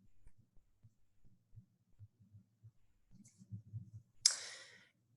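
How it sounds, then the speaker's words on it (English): A single sharp mouse click on a software button, heard as one brief bright snap standing out after a stretch of quiet low murmuring. "So I'm just gonna click on create hierarchy."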